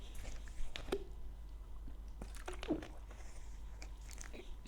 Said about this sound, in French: je vais boire un tout petit peu d'eau